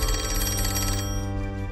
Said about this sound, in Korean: 갑자기 이제 교황청으로 전화가 걸려옵니다.